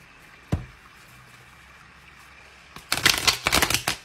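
Tarot cards tapped once, then after a quiet pause shuffled and cut in a quick flurry of crisp, close riffling snaps over the last second and a half.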